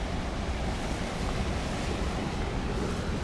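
Ocean waves washing in at the seashore, a continuous broad rushing wash of surf at steady loudness, close to the microphone, with no speech.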